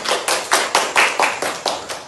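Children in a classroom clap together in a steady rhythm of about ten loud, close bursts, with no talking over them.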